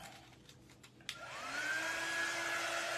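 A handheld dryer blows across a craft sign transfer on a highland cow sign. A few faint taps come first, then the motor whirs up to a steady, close, fairly loud whine that holds to the end.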